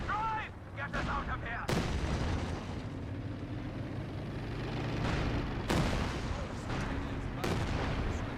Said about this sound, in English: We'll say he's throwing some rounds to the Shuripan's quarters.